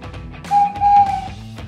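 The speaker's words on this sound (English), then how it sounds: "I have a whistle." A small handheld whistle gives two steady, shrill blasts, the second longer, close up and clear over a quiet background.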